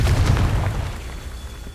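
In Hogwarts Legacy, a Confringo fire spell explodes with a loud, deep booming blast that fades into a rumbling tail over about two seconds.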